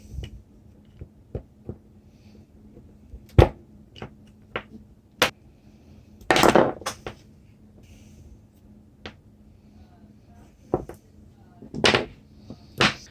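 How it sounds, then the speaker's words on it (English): A small screwdriver clicks and scrapes while pushing bearings out of the differential casing of a Traxxas S-Maxx RC truck, giving sharp, sparse ticks and short scratchy bursts up close on a quiet bench. "Now to get these bearings out, and we can just use a small screwdriver to push those out."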